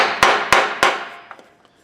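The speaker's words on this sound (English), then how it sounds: "on the other end, we're going to hammer that home a little bit farther" A mallet drives into a piece of wood to set its center for lathe turning, three sharp, evenly spaced strikes ringing out close and loud, then two fainter taps as the sound dies away.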